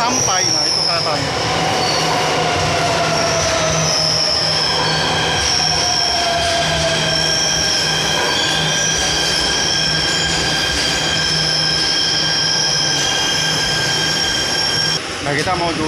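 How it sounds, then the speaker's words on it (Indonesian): MRT train arriving at Dukuh Atas station in Jakarta, a loud sustained roar of wheels with shrill squealing tones and a steady low hum, with faint voices underneath. "Untuk MRT udah datang."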